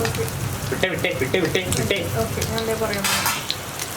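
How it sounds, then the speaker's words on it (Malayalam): Paneer cubes shallow frying in oil in a pan for shahi paneer, a continuous close sizzle and crackle with occasional utensil clinks, while someone talks over it. "അപ്പോൾ ഇനി പനീർ ഒന്ന് ഫ്രൈ ആയി വരട്ടെ."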